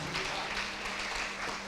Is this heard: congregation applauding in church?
yes